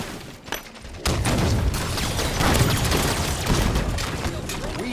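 Enemy shotgun fire in Halo 5 multiplayer, a rapid run of booming blasts and crackling shots packed together over a busy, noisy game mix, loud and continuous after a sharp onset.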